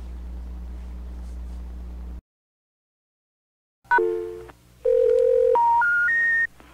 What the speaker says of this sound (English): The number you have reached has been disconnected.